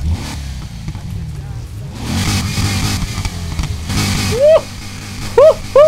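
A Corvette in the racing game Need for Speed Heat idles and revs its engine with a low, throaty rumble, the revving rising and falling beneath someone talking, while short bright rising chirps cut in near the end.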